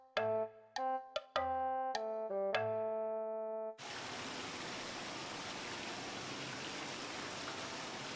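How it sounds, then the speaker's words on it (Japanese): Animated cave scene with a waterfall and a flowing river over glittering stones: a steady, dense rush of water fills the second half, following a few bright chime-like tones. "見たこともない滝や 川底の石がキラキラ光っている川が流れていたり"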